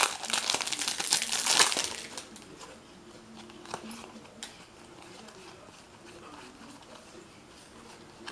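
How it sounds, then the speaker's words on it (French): Foil WWE Slam Attax 2020 trading card booster packs being torn open and crinkled up close, with a loud burst of crackling early on that settles into quieter intermittent rustling and handling of the cards. "Maintenant, on va commencer à ouvrir les boosters."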